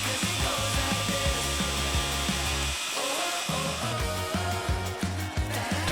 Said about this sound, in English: Redress up the top and base